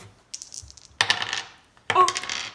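Several dice are tossed and skitter across a hard tabletop, clattering in two separate throws after a few light preliminary clicks.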